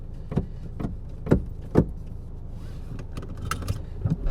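Someone gets back into a car, with a few sharp clunks and thumps of the door and body, then soft rustling and a faint whir inside the vehicle, with no one speaking.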